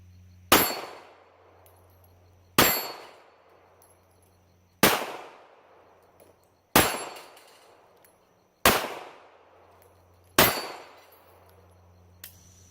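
Six sharp gunshots from a small Ruger LCP pocket pistol, evenly spaced about two seconds apart, each a loud close crack with a ringing decay, followed by a faint metallic clink.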